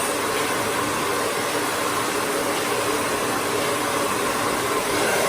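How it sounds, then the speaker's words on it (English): A hair dryer blows steadily at close range while blow-drying hair with a round brush, a loud, even rushing whoosh that holds without a break. "So you're gonna blow dry one way like this."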